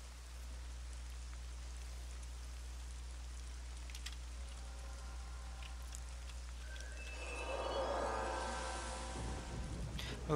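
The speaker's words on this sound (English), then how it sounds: "It's raining." Rain falls in the Dark Age of Camelot game as a soft, steady hiss over a constant low hum, swelling a little near the end with some brief tonal game sounds.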